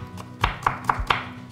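Knife cutting cucumber into fine julienne strips on a cutting board, four crisp, evenly spaced chops with soft taps between, close and clear with no talking.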